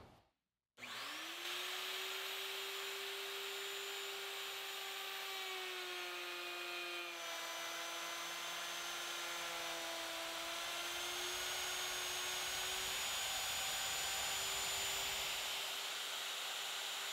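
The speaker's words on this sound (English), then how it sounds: "a flush cut bit in the router to clean up the cut and make all the boards exactly the same" Router fitted with a flush cut bit trimming white oak boards, a sustained high whine that spins up after a brief silence and runs continuously and loud, with the pitch dipping slightly under load as it cuts.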